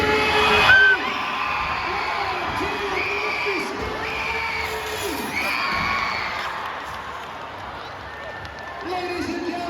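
A crowd at a BMX ramp-riding bike show screams and cheers in a loud sustained roar, with children's shouts and whoops rising above it and swelling again near the end.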